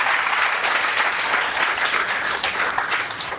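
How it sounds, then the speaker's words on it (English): Audience applause at an International Women's Day celebration, a steady, full burst of many people clapping together that holds for several seconds before easing slightly. "big round of applause for that"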